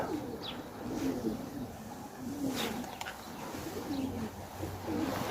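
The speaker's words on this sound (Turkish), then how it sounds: "Bir tane daha kuş geldi dostlar." Tumbler pigeon arriving, with soft repeated coos and a few brief wing flutters over faint outdoor background, no talk.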